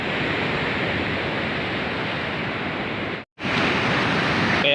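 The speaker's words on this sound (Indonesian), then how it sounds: "ya ombak di sini cukup besar ya" Big ocean waves at Dlodo Rejosari beach, with its black and white sand, large rocks and a cliff. They make a continuous loud roar of surf that cuts out abruptly for a moment near the end, then resumes, with no talking.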